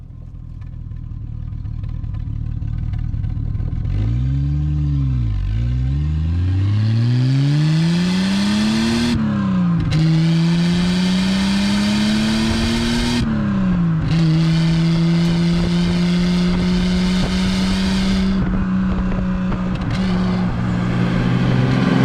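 A Triumph 2500 PI six-cylinder car pulling away and accelerating down a road, its engine note rising through the revs with pauses at gear changes, heard loud and close from inside the car.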